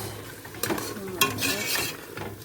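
A spiced chickpea and meat mixture with chilli powder, black pepper and salt cooks in a pot, a soft sizzle under several clattering spoon strokes against the metal.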